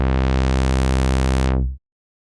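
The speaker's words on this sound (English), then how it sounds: "Turning up the attack knob makes the filter open more slowly" A single sustained WavTool Wavetable Synth bass note with the filter envelope attack raised, bright and buzzy throughout and cutting off cleanly after under two seconds; loud, steady and alone.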